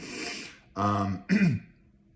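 Close, short bursts of throat clearing, a raspy huff followed by two rough, voiced coughing grunts, then silence.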